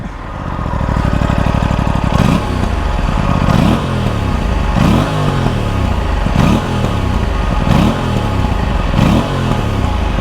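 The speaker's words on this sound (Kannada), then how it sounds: "ಇನ್ನೊಂದು ಸಲ ಎಕ್ಸಾಸ್ಟ್ ಸೌಂಡ್ ಕೇಳಿಸ್ಬಿಡ್ತೀನಿ ನೋಡಿ" Aprilia RS 457 twin-cylinder motorcycle exhaust rumbling steadily up close while cruising in sixth gear at low speed, a continuous deep throb with regular rhythmic pulses and no talking.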